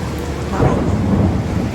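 Heavy monsoon rain pours steadily while a deep rumble of thunder swells and rolls through the middle, loud and close, with no voices.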